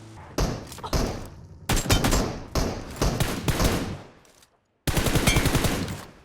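Rapid bursts of automatic gunfire from a battle-royale shooter weapon wearing an icy Ice Realm skin, loud and close, several volleys separated by brief pauses and one near-silent gap before a final sustained burst.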